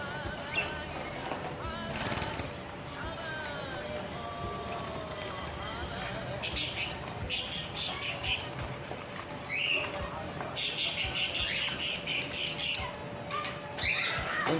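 Small birds chirp and squawk in sharp, irregular bursts, close by and moderately loud, over a low constant hum.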